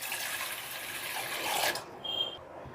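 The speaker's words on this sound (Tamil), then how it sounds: "இந்த பாத்திரத்தில் இப்போ நான் 1/2 லிட்டர் தண்ணி சேர்த்துருக்கேன்" Water poured into a cooking vessel in a home kitchen, a steady splashing stream that swells and then cuts off near the end, heard alone.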